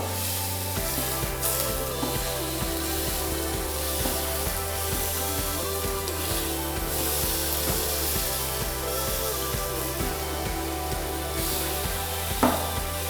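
Vegetables such as courgette and butternut grill over a hot grill with a steady, close sizzle and hiss, while a regular low rhythmic thumping runs underneath throughout.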